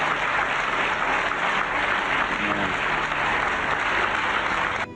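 Sustained applause fills a church congregation for the full five seconds, dense and steady at a loud, even level with no voices breaking through.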